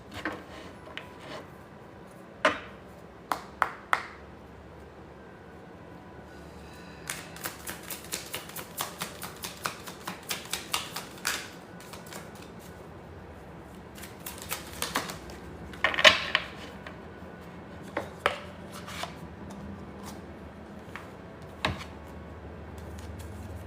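Oracle cards being shuffled and pulled from a deck, crisp rapid card riffles and sharp snaps in bursts with quiet gaps between, close and fairly loud, no voice.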